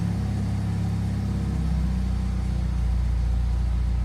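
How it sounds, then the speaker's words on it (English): A BMW engine idles after injector coding, giving a steady, smooth, low hum with an even pitch that stays constant throughout with no hesitation. "It starts right up, there is no hesitation, it doesn't hang around 500 RPM, jumps right to the correct RPM and stays there."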